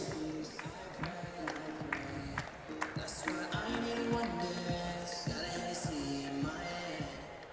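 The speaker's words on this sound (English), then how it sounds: "Ladies and gentlemen, your applause for the medalists," Audience at a cadet European judo championship in Warsaw applauding the medallists, with scattered claps and crowd noise in a large hall, mixed with footsteps, taps and an announcer's voice.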